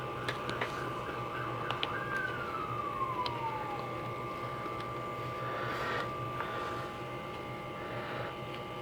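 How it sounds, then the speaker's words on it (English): A distant emergency vehicle siren wails and slides downward in pitch over a steady low traffic rumble heard from a home near a busy road, faint and far off, with short clicks nearby. "Those are sirens"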